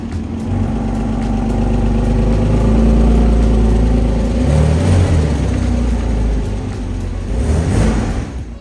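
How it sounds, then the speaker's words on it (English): A forced air dryer blows water off a Porsche Boxster during detailing: a loud, steady rushing roar with low rumble that holds for the whole stretch and swells slightly near the end. "Now we use the forced air dryer to get the car dry as quickly and effectively as possible"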